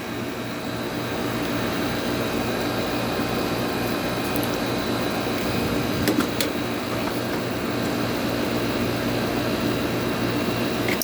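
A Fedders window air conditioner runs with a steady, even whir and hum that holds at a constant level throughout, with no voices over it.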